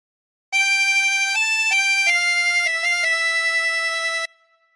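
A chromatic harmonica plays a phrase from Billy Joel's Piano Man, a bright reedy tone stepping through about eight held and short notes, alone and close, ending abruptly with a brief fade.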